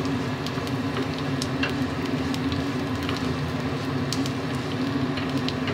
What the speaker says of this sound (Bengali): এইভাবে এটা ভালো করে ভেজে নেব।